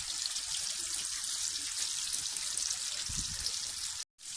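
Tomatoes and eggplant sizzle and crackle steadily in a hot pan, a constant close frying hiss that continues alone with a brief cut near the end.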